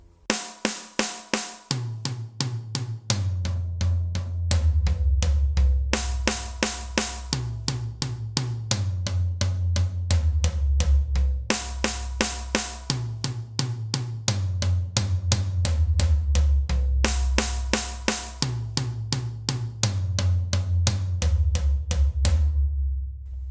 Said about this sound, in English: we're going to play 4 notes on each drum, playing right, left